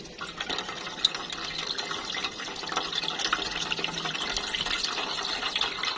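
Coconut water pours steadily out of a freshly opened coconut, a continuous close splashing trickle with small drips, lasting several seconds without talking.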